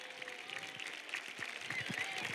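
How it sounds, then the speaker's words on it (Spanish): A crowd of parents and others at a youth football team's season presentation applauds, a soft, steady patter of clapping heard from a distance. "Vamos a darle un fuerte aplauso a los papás que han venido a vernos el día de hoy."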